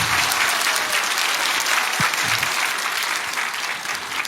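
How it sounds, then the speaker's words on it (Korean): Church congregation clapping warmly for a new member, a dense sustained round of applause filling the room and easing slightly toward the end, with a brief low thump midway. "다시 한번 뜨겁게 박수하겠습니다"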